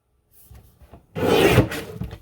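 Card stock being cut on a paper trimmer at the 10.5 mark, two sheets at once: a brief rough slicing swipe of the blade through the thick paper, preceded by faint handling noises, close and loud, with no talking.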